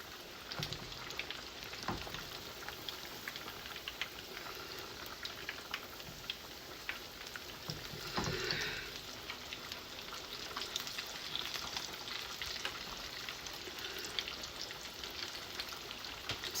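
Breaded chicken breasts for chicken Parmesan frying in a pan, giving a faint, steady crackling sizzle that continues evenly throughout with no talking.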